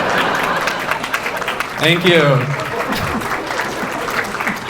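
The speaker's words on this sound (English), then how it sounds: "Okay, that got the biggest applause." Applause from a stand-up comedy crowd runs as a continuous bed of clapping while someone briefly speaks over it near the front.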